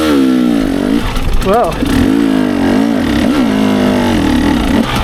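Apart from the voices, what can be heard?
hard enduro dirt bike engine revving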